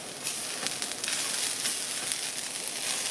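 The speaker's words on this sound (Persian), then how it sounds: "ولی این نعنا چون تازه است مشکلی نداره با جعفری تفت بخوره" Fresh mint and parsley fry in a hot pan with a steady, close sizzle, speckled with small crackles and pops throughout, and no voices.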